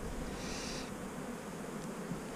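Honeybees from an opened hive division that is still light on bees give a soft, steady hum close by, faint and continuous with no talk over it.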